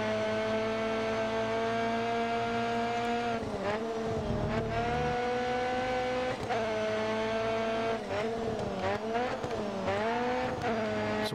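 BTCC touring cars racing in the Grid Autosport video game on Nintendo Switch: loud continuous engine roar that repeatedly dips and climbs in pitch through gear changes, with occasional brief tyre squeal.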